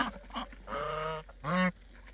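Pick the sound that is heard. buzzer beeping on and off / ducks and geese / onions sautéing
ducks and geese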